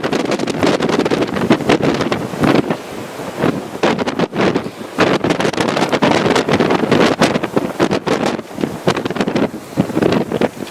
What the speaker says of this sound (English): Just a wee bit breezy out.